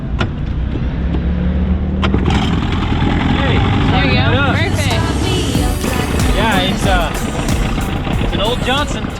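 A Johnson 25-horsepower outboard motor running on a small dinghy, a loud continuous engine drone with water rush, under people talking and shouting.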